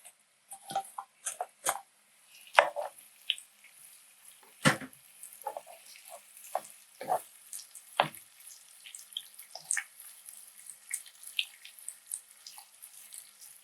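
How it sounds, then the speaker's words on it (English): Shrimp sautéing in a pan for a Cajun shrimp linguine Alfredo, with sparse sizzles, pops and crackles, close but irregular and fairly quiet, alone without speech. "Now we saute this up for about 2 to 3 minutes."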